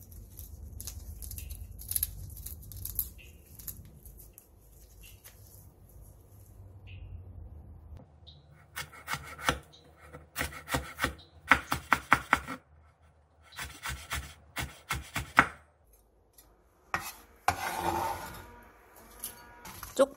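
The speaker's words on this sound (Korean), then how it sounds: "홍고추 5개를 길게 반으로 가른 뒤 씨를 제거하고 길게 채 썰어주세요." Red chili peppers are sliced into long thin strips with a knife on a cutting board; quiet handling at first, then bursts of rapid, sharp knife taps in quick clusters.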